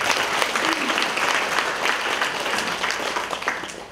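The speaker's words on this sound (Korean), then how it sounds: "마지막 사건에 관해서 발표해 주신 조춘환 교수님께 따뜻한 격려의 박수" Warm audience applause fills a public debate hall, steady and dense from start to finish, a large crowd clapping together after a professor's presentation.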